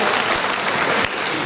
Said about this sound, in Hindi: जोशीले वक्ता नाहरू राम कवासी जी के लिए एक बार जोरदार तालियों से स्वागत करें।